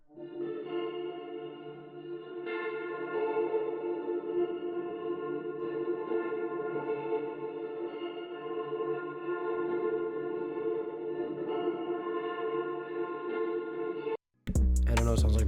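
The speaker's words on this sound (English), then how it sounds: "After that, I added my guitar." Guitar run through effects plugins with reverb gives a smeared, dreamlike bed of sustained chords that rings steadily and loud, then cuts off abruptly near the end.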